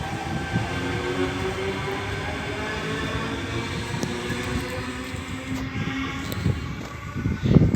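A Tangara passenger train passing on a line toward Wollongong, a steady low rumble and rolling wheel noise that holds throughout and swells near the end, close by with no talking.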